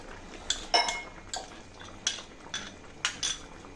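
A spoon stirs milk powder paste into payasam in a cooking pot, metal clinking against the pot in a steady series of sharp, close taps with soft liquid sloshing between them.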